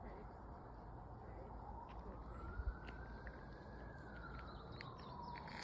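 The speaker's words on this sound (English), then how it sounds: "Excuse the sirens, there is a main road not far from here." Faint, distant sirens wail from a main road beyond a quiet June woodland, a rising and falling tone drifting over soft ambient background and birdsong.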